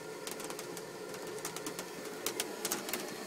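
A Propex heater blows heat inside a Vanagon Westfalia camper, a steady fan whoosh with a faint ticking rattle running through it, even and moderately quiet.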